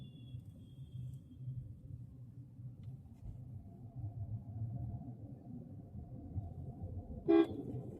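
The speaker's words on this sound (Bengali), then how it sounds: "লোকজন দেখলে হালকা করে হর্ন দেবেন" A single short, light car horn toot sounds near the end, cutting over the steady low engine rumble of a car slowing for a U-turn during a driving lesson.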